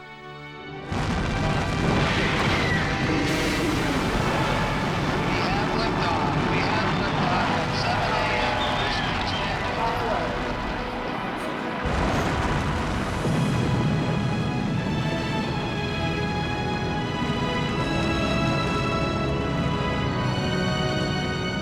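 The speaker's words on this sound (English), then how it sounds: "The hold-down arms release, and 6 million pounds of rocket begins rising." A Saturn V rocket lifting off at launch: a sustained, loud, dense roar with heavy low rumble and crackle, steady throughout, with someone narrating over it.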